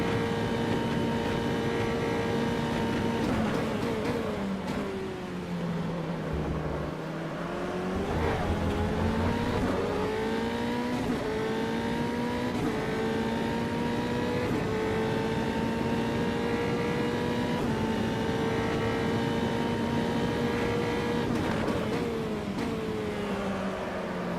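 An F3 race car in a video game laps the Red Bull Ring, its engine droning loud and steady with rising and falling pitch through gear changes and a brief dip in revs.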